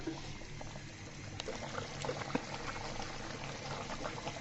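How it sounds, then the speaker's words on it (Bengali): Quiet, steady bubbling of a rui fish curry broth simmering in a pot, with a few faint pops and ticks over a soft continuous wash, no voices. "এই পর্যায়ে আমি ফুটে আসা পর্যন্ত অপেক্ষা করতে হবে"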